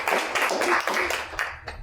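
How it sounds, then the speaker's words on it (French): A short burst of clapping from an audience at a workshop on platforms and innovation, a few quick separate handclaps that rise and fall over about two seconds. "On l'applaudit."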